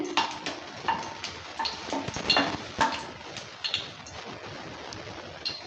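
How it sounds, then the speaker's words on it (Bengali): Two dried red chillies are stirred in hot mustard oil in a pan. Soft sizzling runs underneath as a spatula scrapes and clinks against the metal in quick, uneven strokes. "সরষের তেলটা হিট হয়ে গেছে এবার দিয়ে দিচ্ছি দুটো শুকনো লঙ্কা দেওয়ার পর ভালো করে নেড়ে চেড়ে নিচ্ছে"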